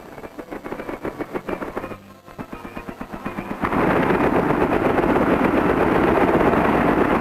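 A 1953 anti-aircraft machine gun at Camp Irwin fires tracer rounds in a fast, loud rhythmic stream of bursts, briefly pausing, then giving way to a sustained roaring barrage, close and unmasked.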